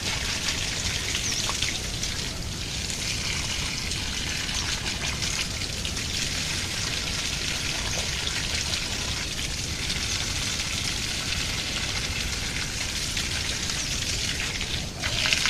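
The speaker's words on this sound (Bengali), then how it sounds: "আগে জল দিছি জল গড়ে চলে গেছে" Water pouring steadily onto a bottle gourd plant in a village garden, a continuous broad splashing and trickling that stays loud and even throughout.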